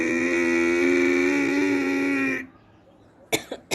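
Ujjayi pranayama throat breathing during a yoga workout: a long, loud, steady raspy exhale through a constricted throat, then a pause and a couple of short coughing or throat-clearing bursts at the end.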